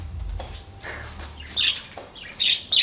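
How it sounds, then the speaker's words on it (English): Loud, shrill bird squawks ring out in several sharp bursts over quiet background rumble in Thailand, growing more frequent toward the end. "And there were these very loud birds"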